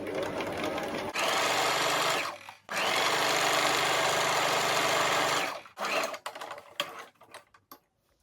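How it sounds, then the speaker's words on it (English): Sewing machine stitching a satin-lined T-shirt turban, a loud steady mechanical whir in two long runs separated by a brief pause, then short stop-start bursts and clicks at the end. "you can take it to your sewing machine and stitch from here to here"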